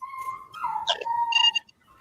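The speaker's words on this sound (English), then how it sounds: "there's a dog crying for help in the background" A dog whimpers and whines indoors in the background, a thin high crying tone with short yelps, fairly faint and stopping abruptly near the end.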